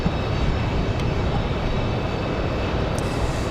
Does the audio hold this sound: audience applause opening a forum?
no